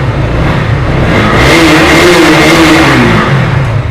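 A 2023 single-owner motorcycle with 28,000 km, kept in showroom condition, idles steadily and loud at close range, its engine note rising briefly midway before settling back, with no talk over it.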